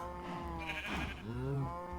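Sheep in the game Minecraft bleat repeatedly over steady background game music, a couple of wavering calls close and clear with no talking.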